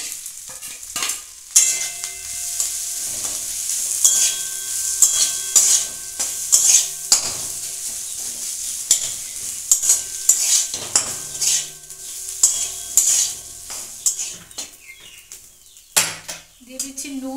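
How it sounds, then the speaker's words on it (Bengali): Green pea paste for khasta matar kachori frying in a pan, a close steady sizzle broken by repeated scrapes and clinks of a metal spatula stirring against the pan. "এবার সব কিছু আমি একটু ভালো করে ভেজে নেবো।"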